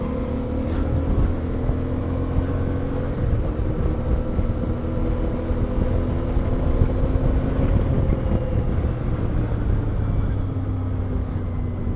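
A CF MOTO 450 MT motorcycle carrying two riders cruises along, its engine a steady droning hum with shifting tones under constant wind rush, no talking.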